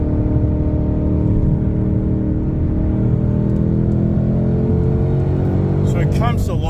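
A Whipple supercharged race truck engine pulls at high RPM, a loud, steady droning roar with rising harmonic tones that climbs over several seconds, heard from inside the cab.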